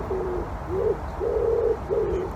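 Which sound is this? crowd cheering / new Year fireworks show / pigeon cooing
pigeon cooing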